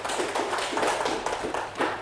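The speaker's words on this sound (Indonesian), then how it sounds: "Beri tepuk tangan kepada Mas Akmal." Students applauding a classmate's presentation in a classroom, a burst of quick overlapping hand claps at close range, steady and brisk for about two seconds with no voices.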